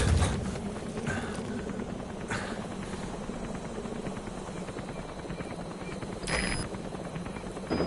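A helicopter arriving for extraction in a military video game, a continuous broad rotor and engine roar that holds steady for several seconds, loud and close, with brief brighter swells.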